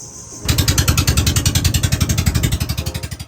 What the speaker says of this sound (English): Yes, the sound of the engine was pretty loud